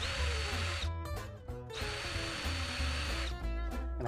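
A power drill bores a 3/16 inch hole into a poplar board, two sustained high whining bursts with a short pause between, loud and close with no talk.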